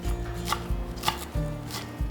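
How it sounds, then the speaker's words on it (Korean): A knife finely chops green onions on a cutting board in quick, rhythmic taps, about four close, soft strokes spaced evenly with no talking. "원하시는 대로 토핑용으로 사용할 거기 때문에 잘게 이렇게 잘라 주세요."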